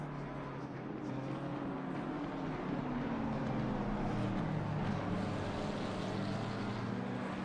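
GT3 race cars, a McLaren among them, run in a slipstream along the Wellington Straight at Silverstone in a sim racing endurance game, making a steady, moderately loud engine drone with a shifting pitch that rises gently, and no talk over it.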